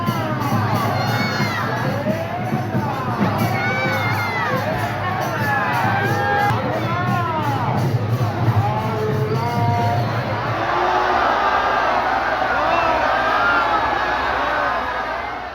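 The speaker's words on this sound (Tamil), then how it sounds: "அப்போது அங்கு கூடியிருந்த திரளான பக்தர்கள் கைத்தட்டி ஆரவாரம் செய்தனர்." A large crowd of devotees cheers and shouts with whoops at a Hindu temple chariot festival in Tiruvarur as the huge chariot reaches its resting place, loud and continuous, with a denser roar of voices in the final seconds.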